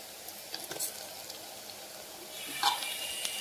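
Marinated brinjals hit hot oil in a pan for pulav, giving a quiet steady sizzle with faint scraping and clinks, the frying swelling a little louder toward the end.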